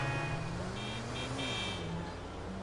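A car horn honks in GTA V while driving through city traffic, with steady engine and road noise underneath and a few short horn bursts in the middle.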